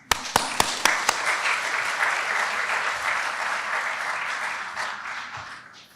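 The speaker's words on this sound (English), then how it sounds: "clap your hands." Audience at a Stetson Law graduation celebration breaking into applause, a few sharp isolated claps at the start quickly swelling into full sustained clapping from the crowd before easing off.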